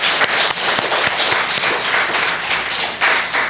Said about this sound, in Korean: 박수를 한번 올려드리십시오